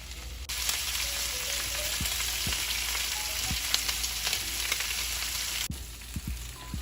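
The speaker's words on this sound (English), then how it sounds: "As you're cooking the shrimp, try not to move it around too much" Large shrimp browning in a hot pan give a dense, even sizzle that holds steady throughout, with a few faint clicks and light knocks near the end and no talking.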